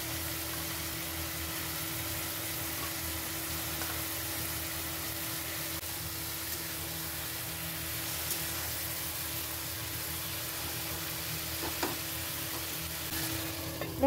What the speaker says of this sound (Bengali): তারপর ভেজে রাখা আলু, সয়া চাপ ওতে আমরা দিয়ে দেব আর কিছুক্ষণের জন্য ওটাকে ঢেকে রেখে দেবো।